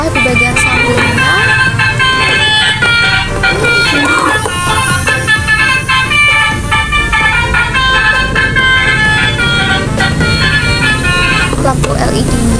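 A toy bus plays its basuri telolet horn, a bright, looping melody of musical toots that sounds loud and steady the whole time, with a few faint clicks.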